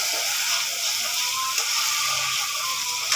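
Spice paste (masala) being sautéed in a pan for hilsa fish curry, a steady bright sizzling hiss with faint scraping and crackle, continuous and close for a few seconds without talk.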